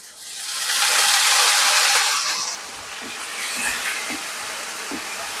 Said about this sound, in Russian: А чтобы паста наша не горела, мы добавим водичку.